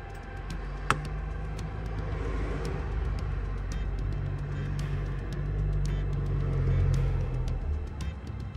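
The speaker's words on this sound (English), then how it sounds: "So diesel heater's all purged. So hopefully now, apparently it's just switch it on." A Chinese diesel heater runs inside a van as a steady low rumbling drone with a fan-like hum, a single sharp click near the start, and light ticking noises above.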